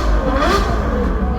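A Ferrari supercar revving at an auto show, a loud close burst of engine roar with a sweeping rise and fall in pitch.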